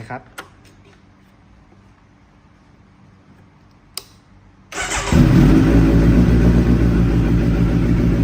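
After a few quiet clicks, a 2018 Kawasaki Z900 ABS motorcycle engine cranks and catches on the first try, then settles into a loud, steady, rumbling idle close by.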